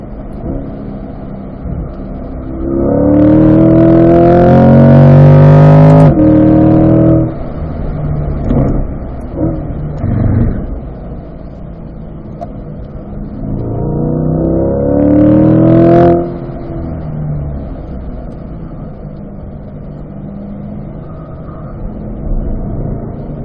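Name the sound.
Corvette C8 Stingray engine accelerating on race track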